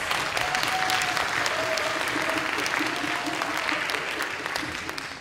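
Audience applause at the grand final of a youth English debate competition, a steady, sustained clapping from a full hall lasting several seconds before slowly easing, with a faint tonal whistle threading through.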